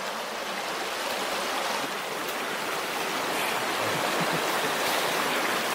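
A creek in the Pennsylvania wilderness flows in a steady, close hiss of rushing water with no pauses or other sounds.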